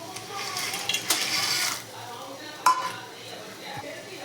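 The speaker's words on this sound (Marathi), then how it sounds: "पाण्याला उकळी आल्यानंतर पास्ता टाकूया आपण त्याच्यात" Dry pasta tipped into a pot of boiling water on a home stove: a short burst of clattering and one sharp metallic clink over a soft, steady hiss, quiet overall.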